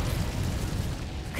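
Casting the Incendio fire spell in Hogwarts Legacy releases a dense, roaring whoosh of flame that fills the whole moment and stays loud from start to finish.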